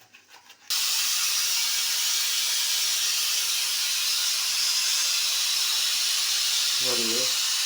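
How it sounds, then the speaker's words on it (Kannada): A pressure cooker releasing steam, a loud sustained hissing whistle that bursts on after a brief pause and continues steadily up close, with a short voice near the end. "ಈಗ ಕುಕ್ಕರ್ ಒಂದು ಕೂಗಿದೆ"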